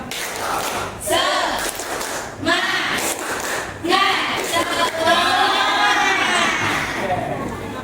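A group performs a rhythmic spirit clap chant during an Indonesian coaching session, with bursts of clapping and shouted voices from the gathered participants, rising and falling across several seconds at a steady, lively level.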